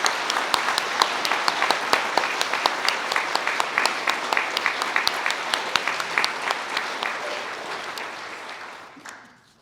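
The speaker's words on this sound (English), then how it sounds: "let's take a moment to give these accomplished young people a round of applause for their hard work" Audience applause for scholarship students at a ceremony, a dense, steady round of clapping from many hands that carries on evenly before tapering off near the end.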